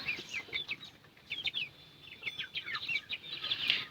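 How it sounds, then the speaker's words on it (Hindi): A Golden Buff hen clucks and trills in short repeated bursts, close by and fairly quiet, with other chirpy calls over a soft background. "ये मुर्गी अंडे भी दे रही है,"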